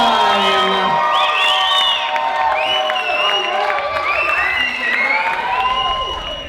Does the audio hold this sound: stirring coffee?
no